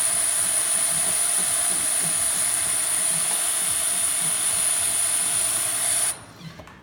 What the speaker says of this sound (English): See, we have nice steam.